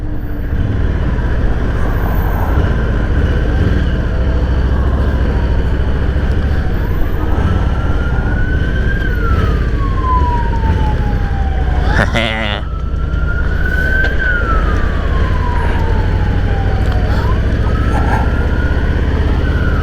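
Police car siren on a Long Island road, heard from a 2021 Low Rider S motorcycle: a loud wailing tone that rises and falls slowly over the steady rumble of the ride, with a sharp burst midway.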